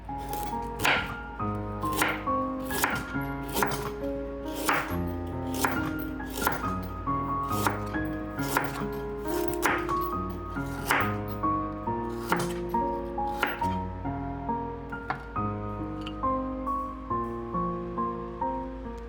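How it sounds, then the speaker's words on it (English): A knife slices galangal into thin slices on a cutting board, giving a steady run of crisp, evenly paced chops, close and fairly loud, with no talking. "galangal, which reminds me of a combination of citrus and pine forest, has a refreshing, stimulating aroma and flavor. Cut them into thin slices like this"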